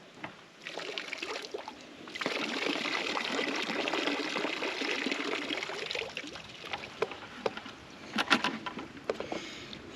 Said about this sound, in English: I'm trying to dump this water out so I can show you better.